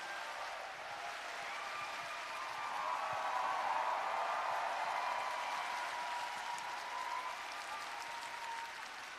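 A large audience at a book concert talk show claps to welcome a guest on stage, a dense, sustained wash of applause that swells slightly midway and continues for several seconds without pause.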